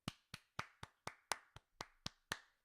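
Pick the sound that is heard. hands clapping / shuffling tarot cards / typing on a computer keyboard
hands clapping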